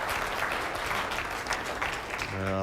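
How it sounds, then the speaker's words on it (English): A crowd claps at an indoor lawn bowls match, the Australian Indoor 2001, as steady, fairly loud applause filling the whole moment, with a voice coming in near the end. "the crowd are clapping"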